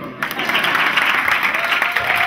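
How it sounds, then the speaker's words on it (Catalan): An audience at a book presentation bursts into loud, sustained applause, dense clapping filling the hall from the first moment and continuing evenly throughout. "Podeu aplaudir."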